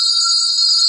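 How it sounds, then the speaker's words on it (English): A single bright, sustained bell tone rings steadily and clearly for about a second, close and fairly loud. "All the bells ringing this time of night?"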